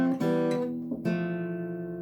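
Guitar plucking just the two top notes of a chord, a couple of quick picked strums followed by one clear ringing pair that sustains and fades, close and alone.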